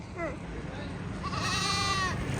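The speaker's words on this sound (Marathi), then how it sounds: "काय हा बकरा पाय किती आहे टेम्पो मध्ये" A goat riding in the back of a tempo truck gives two wavering bleats, a short one and then a longer drawn-out one, nearby over low background rumble and murmuring.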